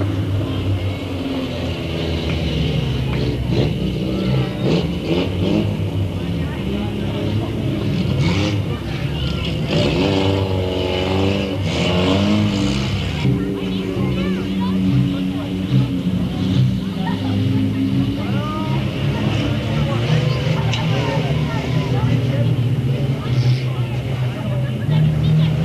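Race cars circling Delta Speedway in 2000, a continuous roar of several engines running close together, heard under a steady announcer's commentary.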